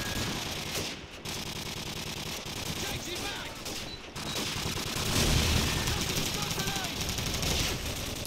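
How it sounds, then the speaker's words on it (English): Desert Eagle pistol fired rapidly in Call of Duty 4, a dense stream of sharp repeated shots mixed with other gunfire and game noise, loud and nearly continuous throughout. "I forgot about spam firing the Deagle. I forgot how much you could fire that."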